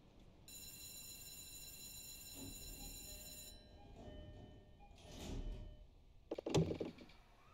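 A door chime rings steadily, then the sliding doors of an E233-3000 Tokaido Line train rumble shut with a soft thud and a brief clatter near the end; faint station hum underneath.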